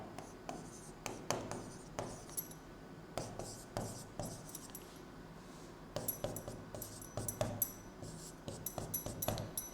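Chalk or marker strokes on a classroom board, a steady run of short scratchy taps and squeaks repeating across the whole stretch, close and fairly quiet, with no talking over them.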